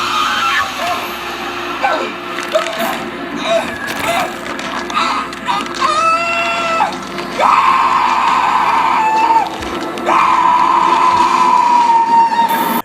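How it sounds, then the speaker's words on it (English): A man screams in a Green Lantern movie scene, loud and drawn out, rising in several strained bursts over a busy film soundtrack and ending in a long sustained yell. "this scream happens, and it's one of my favorite screams in cinema history."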